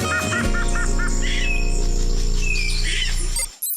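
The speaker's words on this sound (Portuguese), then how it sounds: "pássaros, a quantidade de pássaros que tem agora, atualmente aqui" Birds chirp and sing outdoors in a lively mix of short repeated calls and whistles over a steady background hum, ending abruptly.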